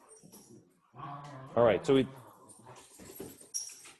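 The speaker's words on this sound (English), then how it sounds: "these dogs obviously need to go outside" Dogs whimper and yip in a classroom, a couple of high whiny squeals rising near the middle and end while someone talks.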